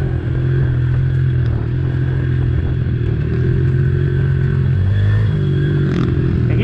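Pit bike motorcycle, a KLX, runs hard on a dirt track, its engine droning loud and close in a sustained steady whine with slight pitch shifts and some clatter, no speech over it.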